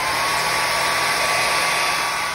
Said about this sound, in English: then I'm going to blow it out with a hairdryer